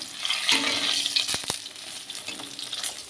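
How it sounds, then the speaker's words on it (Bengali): Close, continuous sizzling and crackling of fish frying in oil, with a couple of sharp knocks midway. "এই যে আমার মাছ ভাজা হচ্ছে"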